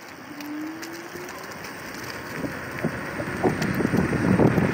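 Riding a 72V twin-battery Jetson Bolt Pro electric bike at a cruising pace, with steady wind noise buffeting the microphone and a faint rising motor whine, the rush growing louder toward the end.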